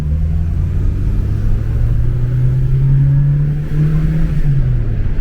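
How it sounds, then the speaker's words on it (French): A Peugeot 104's small engine revs steadily up and down, a loud close rumble with rising and falling pitch, no voices. "vas-y accélère un petit coup pour voir"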